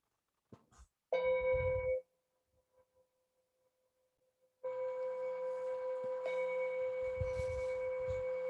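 A small bell chimes once with a clear tone that fades, then rings again with a long, sustained shimmering resonance, close and alone, during a mindfulness meditation session.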